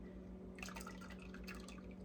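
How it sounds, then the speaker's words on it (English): Lye water pours down the shaft of a stick blender into oils, a faint, quiet trickle of dripping and splashing liquid that runs continuously for a couple of seconds over a low steady hum. "you want to pour your lye water down the shaft"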